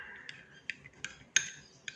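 A utensil mixes vitamin C and vitamin B3 liquid into a homemade face wash in a small container, making light, sparse clinks and taps at an uneven rhythm, close and quiet, with no voices.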